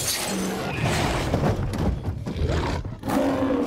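A hellhound roars in a horror film, a loud sustained growling roar with deep rumbling thuds, continuing throughout without pause.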